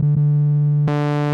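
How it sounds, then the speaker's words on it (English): A Korg MS-10 synthesizer holds a steady, loud single-pitch tone that abruptly turns brighter and buzzier just before the end. "Here's your waveforms, you got your sine wave,"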